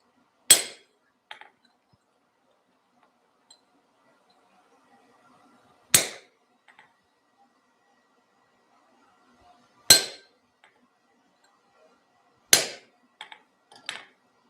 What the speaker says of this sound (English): I want to just clean up these chisel marks a little bit.